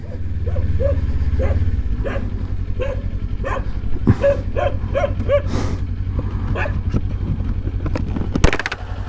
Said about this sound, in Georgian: ძაღლი